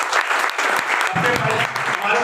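Audience applause at a product presentation for a wellness and health products organisation, a dense burst of clapping with voices mixed in, fairly loud and continuous for a couple of seconds.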